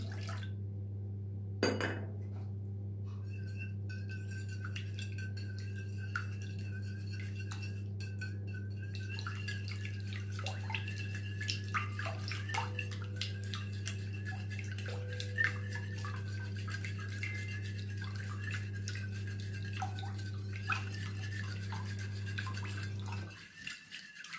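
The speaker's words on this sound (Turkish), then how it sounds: "Evet sütümüzde yumurtamızı çırptık." Eggs and milk whisked together in a mixing bowl for a pan börek batter, a steady light clinking and scraping of whisk against bowl over a constant low hum, with no talk.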